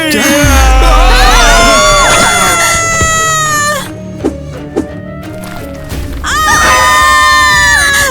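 A girl screams loudly and at length at a late-night sleepover party among best friends, her shrill cries breaking off briefly and then rising again, with a few faint sounds in the gap.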